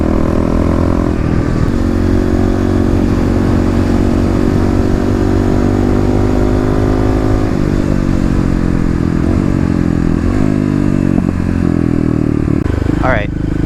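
Fuel-injected Kawasaki KLX351 dirt bike engine revving hard while riding, a loud continuous roar with rising and falling pitch, close and strong throughout, ending in a sharp rev.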